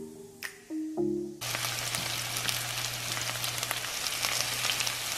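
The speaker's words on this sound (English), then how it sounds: "Now the onion is ready, so I'm going to put it on the pan." Chopped onion hits a hot pan with a loud burst of sizzling that settles into a steady, dense crackle of frying, after a few brief clinks of cookware at the start.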